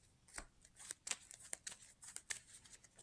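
Playing cards being shuffled at a tabletop game of a four-handed X-Men card game, a run of quick papery riffles and slaps in close, irregular bursts, with no talking.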